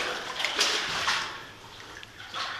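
Water flowing out of a water line inside a mine, a steady hissing rush with gentle splashing surges, fairly close and continuous without talk.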